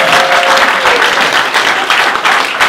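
Audience applause fills the hall, a dense steady clapping that stays loud throughout with no talk over it.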